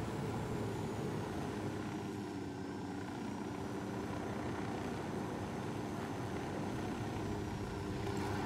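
A helicopter in the video game Ghost Recon Wildlands flies nearby, its rotor and engine making a steady, continuous drone that holds at an even loudness without any speech.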